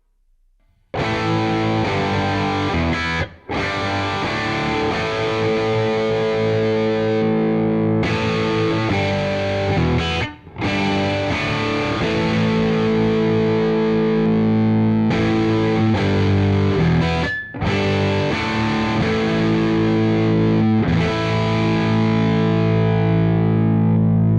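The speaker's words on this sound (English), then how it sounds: "we'll do the same run of the 3 sounds that are available, but with a dirty sound" Distorted electric guitar plays loud, sustained chords and riffs with brief gaps between phrases, thick and gritty throughout.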